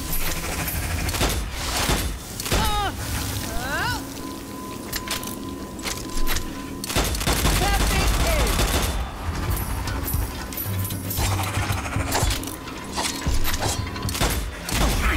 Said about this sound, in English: Perfect hit. I say, what wonderful shooting.